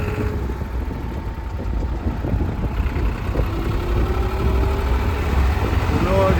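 A tractor towing a caravan along a mountain road near Manali, its engine running with a steady rough rumble throughout, close and fairly loud, with someone talking over it.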